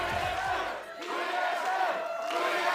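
An arena crowd at a League of Legends NA LCS match chants in unison for TSM, a loud, sustained roar of many voices with a brief dip in the middle.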